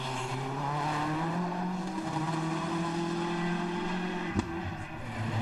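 Rally cars race through a stage in the WRC 2004 video game, engines droning loud and steady with shifting pitch as one car passes another, and a sharp knock near the end.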